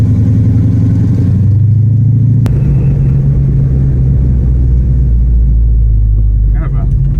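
A car's exhaust drones loud and steady from inside the cabin while driving, a constant low hum in heavy traffic. A sharp click cuts in partway through, and faint voices sound near the end.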